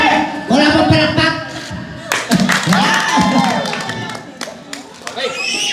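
Live audience clapping and cheering at a Filipino variety event, a burst of applause with whoops mixed among loud talking and laughter, close and lively throughout.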